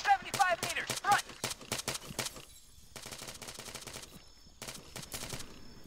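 Machine gun fire in the military shooter Arma 3: Apex during a co-op mission: rapid bursts of automatic shots, some close and sharp, others more distant, in several clusters with quieter gaps and faint background chatter.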